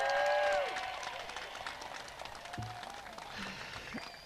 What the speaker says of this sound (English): now let's hear some big applause from the KHS graduating class of 2023